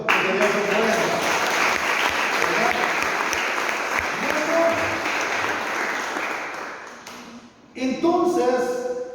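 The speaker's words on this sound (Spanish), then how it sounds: "Denle un aplauso al Señor, que Dios es bueno." A church congregation applauding during a sermon, dense sustained clapping that fades toward the end, with voices speaking over the last few seconds.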